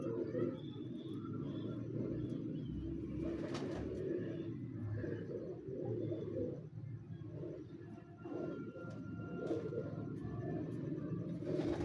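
Flying pigeons, a high-flying breed, give low, soft coos again and again at a moderate distance over a continuous muffled rumble.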